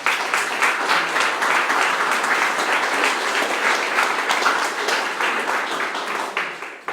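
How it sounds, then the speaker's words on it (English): An audience at a museum exhibition event breaks into sustained applause, a loud, full wash of many hands clapping that holds steadily for several seconds before tapering off. "can we just give them a round of applause for that?"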